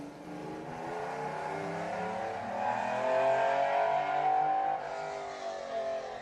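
A Ferrari P4 replica race car's 4.5-litre V12 rises in pitch as it accelerates past at a grassroots sprint event, a smooth high howl swelling in the middle then easing, heard from a moderate distance.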